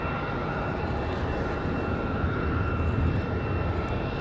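American Airlines flight 2308 departs Raleigh-Durham International at night bound for LAX, its jet engines a loud, steady broadband roar throughout with no talk.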